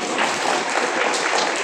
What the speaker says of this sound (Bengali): সবাই জোরে করতালি